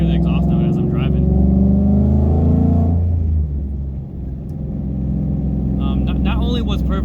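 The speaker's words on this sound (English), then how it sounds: "you can hear the exhaust now as I'm driving" Deep, throaty exhaust of a 2015–2017 S550 Ford Mustang rumbles loudly as it drives, the tone rising with revs then easing off before building again.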